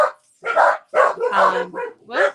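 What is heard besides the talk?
dogs barking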